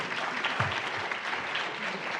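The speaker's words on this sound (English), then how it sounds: "Clap for it." Gala audience at an interior design awards ceremony applauds nominees, a steady, moderately loud wash of clapping with a faint voice briefly underneath.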